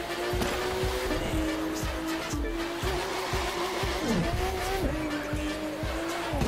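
Car racing in The Crew 2 with nitro boost engaged, the engine whining up through rapid repeated gear shifts with tire squeal, loud and continuous with no talk.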